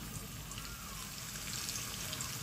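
Chopped onion sizzles in hot frying oil in a pan, a steady, soft crackling hiss with no pauses.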